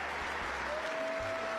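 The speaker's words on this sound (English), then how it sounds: "They're clapping." An audience applauds a speaker arriving at a podium, dense steady clapping from a large crowd with no pauses, loud and continuous.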